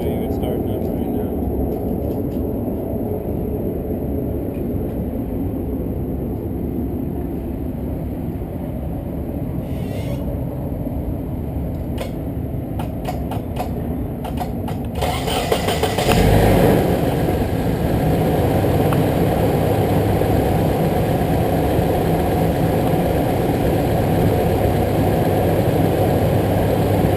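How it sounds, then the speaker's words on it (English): A Nissan 240SX's KA24DE engine with a slightly loud valve train turns over and starts, then idles with a steady low rumble; a voice speaks over the engine noise early on. "I'll show you it starting up right now."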